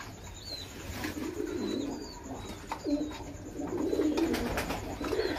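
Breeding pigeons cooing inside a loft in Bangladesh, soft repeated low coos from several birds overlapping, with occasional faint chirps and a brief wing flutter, close and moderately loud.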